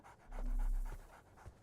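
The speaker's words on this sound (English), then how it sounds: "So, Barnes has a dog now." A dog in the video game Sherlock Holmes: The Awakened pants in quick, rhythmic breaths, close and clear, with a soft low whine underneath and no one talking.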